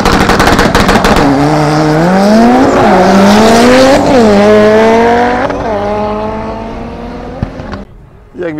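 A BMW E30 and an old Honda Civic run a quarter-mile drag race at an airfield, loud engines revving and rising through gears with sharp shifts and popping exhaust, fading near the end.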